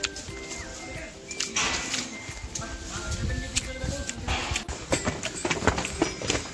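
Horse hooves clip-clop along a mountain pilgrimage path to Purnagiri in a steady, uneven patter, with outdoor murmur and distant voices in the background.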